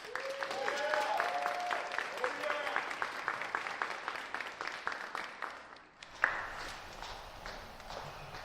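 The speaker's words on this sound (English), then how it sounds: "Let's give them a round of applause." Audience applause at a fall acting-for-the-camera showcase, a dense steady clapping from a sizable crowd that starts loud, tapers slightly, then swells again briefly near the end with a voice speaking over the opening seconds.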